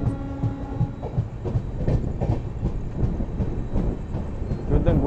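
A Humsafar Express train runs steadily on the rails, its rolling rumble loud and close with rhythmic clickety-clack beats of wheels over rail joints throughout.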